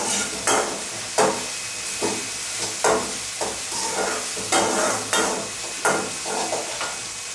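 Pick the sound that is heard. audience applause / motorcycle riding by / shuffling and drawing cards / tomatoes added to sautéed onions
tomatoes added to sautéed onions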